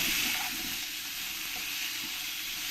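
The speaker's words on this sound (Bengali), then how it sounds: "এবার আমি এর মধ্যে একটু লবণ আর একটু সামান্য হলুদ দিয়ে দেবো দিয়ে আমি ভালো করে ফ্রাই করে নেব" Food frying in a pan with salt and turmeric, a steady close hiss of sizzling oil with faint stirring movements, continuous throughout and without talk.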